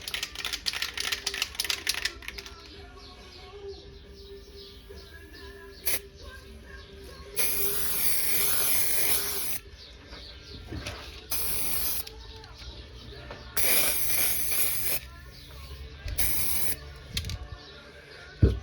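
Aerosol spray paint going onto a 2004 Jeep Grand Cherokee grill for a second coat, several hissing bursts of a few seconds each separated by quiet pauses and light handling clicks, close by.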